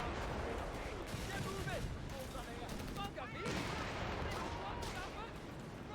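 Mortar and artillery fire rumble through a Company of Heroes 3 match, with dense distant blasts and crackling explosions layered continuously under someone talking.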